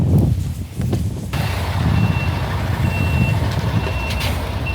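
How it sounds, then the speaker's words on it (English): A truck backing up around a corner near a weighbridge emits steady, evenly spaced reversing beeps over the continuous low rumble of its idling engine, with no voices present. "Then did a fine job reversing around that corner."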